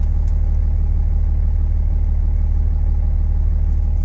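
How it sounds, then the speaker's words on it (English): A 2007 Ram 2500 HD pickup's 5.9 Cummins diesel engine, running with its check-engine light on and a turbocharger wastegate solenoid fault, idles with a loud, steady, deep rumble, close up and unbroken. "big horn, the Cummins diesel, as you can hear"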